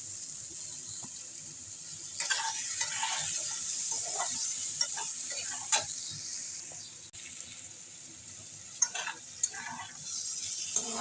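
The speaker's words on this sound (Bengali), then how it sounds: "এবার ঝিঙেটাও দিয়ে দেবো ভেজে নেবো আলু ঝিঙের সঙ্গে" Ridge gourd and potatoes frying in a pan, a steady sizzle with intermittent stirring scrapes and a few light clinks, no talking.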